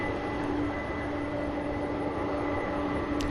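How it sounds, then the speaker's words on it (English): Two Boeing 747 jets taxiing together at an airport produce a continuous, steady engine drone with a constant whine, distant and unbroken throughout. "2 747s taxiing at the same time"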